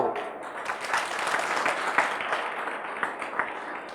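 An audience at a health talk by Dr. Khader Vali applauds: dense, continuous clapping from many hands, moderately loud and steady for several seconds.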